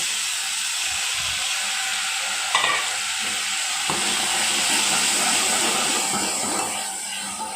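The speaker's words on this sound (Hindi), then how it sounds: "जैसे ये थोड़ा पकने लगे इसमें हम टमाटर डालेंगे" Tomatoes and spinach fry in a pan for a Sindhi spinach dish, a steady loud sizzle and hiss close up, with a few stirring clinks and scrapes and no talking.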